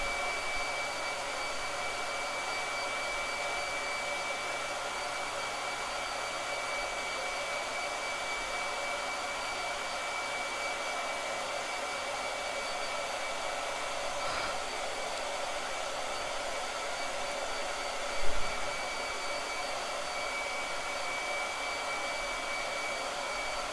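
A blow dryer runs without pause as a steady, even whoosh, loud and alone, with one short soft bump near the end.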